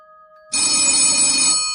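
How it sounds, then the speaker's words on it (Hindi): A telephone ring bursts in after a faint steady tone, a bright, loud electronic trill sustained for over a second before starting to fade, with no voices. "अचानक उसे किसी का कॉल आया"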